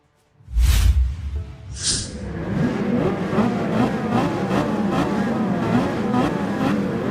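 Racing car engine in Gran Turismo 7 on PS5, a loud swoosh as a car passes, then sustained high-revving engine roar with repeated gear-shift rises and dips, no talking.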